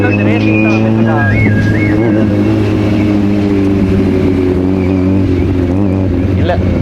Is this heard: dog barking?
no